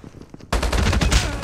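A rapid burst of HBRa3 assault rifle fire in Call of Duty Mobile, a loud, close, continuous automatic stream that starts abruptly after a quiet moment.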